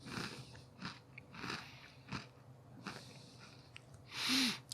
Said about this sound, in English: Well, the breadstick is crunchy.